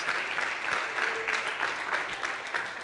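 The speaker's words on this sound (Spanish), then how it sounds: "Un aplauso por el pastor Funes, aleluya." A congregation claps for a pastor at a Christian gathering, continuous crowd applause at a fairly low, distant level with no pauses.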